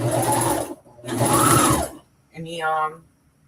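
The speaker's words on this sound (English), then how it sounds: "I'm just going to pass the serger to clean up my edges." Rapid mechanical chatter of a serger overlocking fabric edges, running in three short bursts with brief pauses between, close and loud.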